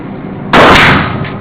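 A single loud gunshot cracks at a shooting club, a sudden broadband blast that decays quickly into outdoor background noise.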